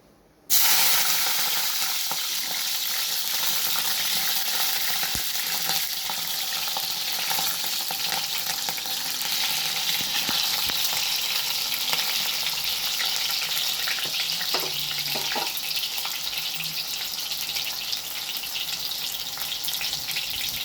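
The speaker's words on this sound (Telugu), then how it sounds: "నూనె కాగింది. ఇప్పుడు పచ్చిమిర్చి వేద్దాం." Green chillies and bitter gourd fry in hot oil in a pan, giving a loud, constant close sizzle that starts abruptly and crackles on without letup for the whole stretch.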